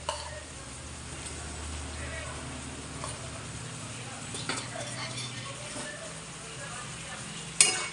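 Vegetable curry stirred in a pan after peanut powder is added, a soft continuous sizzle with light scraping and an occasional clink of the spoon against the pan.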